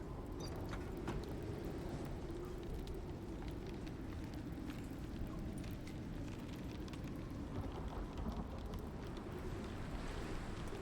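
Steady rain from a storm in the survival game Voyager falls as a constant soft hiss and patter. It is faint and unbroken for about eleven seconds with no distinct thunderclap and no talking.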